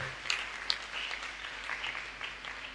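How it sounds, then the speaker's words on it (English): A church congregation applauding at a wedding ceremony, a broad wash of clapping from many hands that swells and fades, moderately distant and fairly quiet. "I clap for her. Clap for her."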